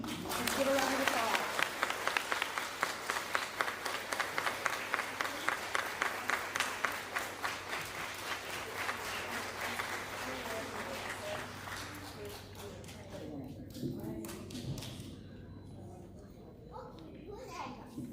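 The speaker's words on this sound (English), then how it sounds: "Let's give a round of applause." Audience applause at a fifth grade farewell, a dense burst of many hands clapping that fades over about twelve seconds into children's chatter and voices.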